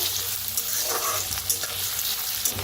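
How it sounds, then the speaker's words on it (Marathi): Onion and potato frying in a pan for a home-style vegetable dish made without cumin, giving a steady, close, continuous sizzle with no voices. "आता कांदा बटाटा छान असं भाजलं गेलेला आहे"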